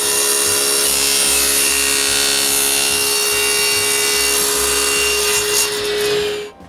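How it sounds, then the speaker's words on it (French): A cheap saw blade cuts straight across the end of a plywood piece, a steady loud power-tool whine with a low rhythmic chop beneath it, running continuously before winding down abruptly at the finish. "Avec une lame cheap, je coupe le bout droit"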